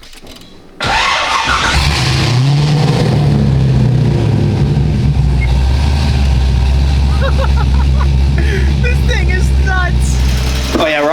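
A loud Corvette engine starts abruptly and settles into a deep, rumbling idle that holds steady, with a voice speaking faintly over it near the end.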